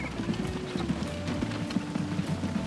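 Stagecoach horses trot in Transport Fever 2, a steady close clip-clop of hooves over a low rumble of wheels, with a faint whinny.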